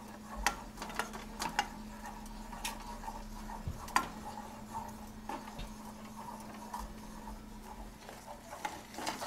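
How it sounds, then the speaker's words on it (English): A wooden spoon stirring thickening golden milk paste in a pot, soft repeated scrapes and knocks against the pot over a low steady hum. "I have my wooden spoon, and what I'm doing is, as you can see, I'm stirring it"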